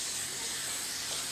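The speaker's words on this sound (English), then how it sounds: "you got to put spray mount on the platen." Spray mount adhesive hisses from an aerosol can onto a screen printing platen, one continuous close spray with no pauses or talking.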